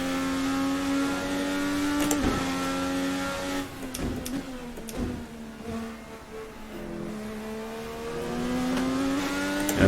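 A 1999/2012 IndyCar in the VRC Formula NA racing game mod screams through rising and falling revs, with the engine note climbing, dropping sharply at shifts and braking, then building again, loud and continuous.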